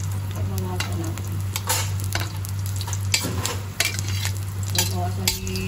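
Banana heart cooking in a pan with ginger sizzles steadily while a utensil stirs and scrapes, and a constant low hum runs underneath the frying.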